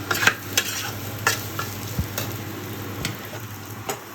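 Boiled chow mein being fried and stirred in a pan gives a steady soft sizzle, broken by repeated scraping strokes and clinks from a utensil at irregular intervals.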